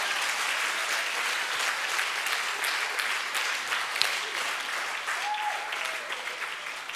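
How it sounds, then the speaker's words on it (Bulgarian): A church congregation claps together in sustained, even applause that fills the room at moderate loudness for the whole stretch, with a faint voice briefly rising near the end. "Нека пляскаме на Господа."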